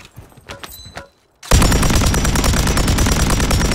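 SMG gunfire in the video game Call of Duty Warzone: a few scattered shots, a brief silence, then a loud, sustained barrage of rapid automatic fire that fills the rest, close and harsh with no talking.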